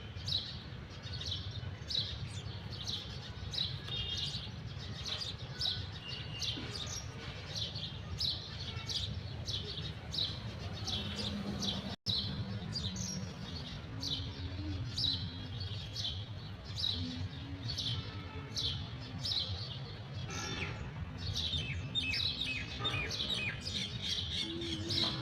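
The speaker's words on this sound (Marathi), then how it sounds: "इतका चिमण्यांचा आवाज आहे ना, किलबिलाट खूप जास्त" Sparrows chirp in dense, continuous overlapping bursts in a backyard garden, steady throughout with a low background hum.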